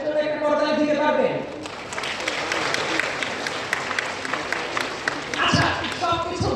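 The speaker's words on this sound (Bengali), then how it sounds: "আপনারা অনেকক্ষণ ধরে করতালি দিচ্ছিলেন।" Audience applause at a talk in Chittagong, a dense broadband clapping that fills the clip steadily, with a voice talking over the opening second and the clapping swelling again near the end.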